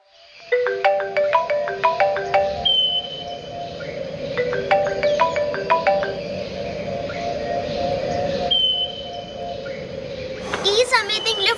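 A mobile phone plays a melodic, chirpy ringtone in repeating bursts over several rings, fairly close and clear, with a brief voice near the end.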